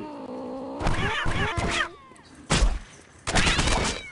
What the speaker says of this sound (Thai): ยิงแมว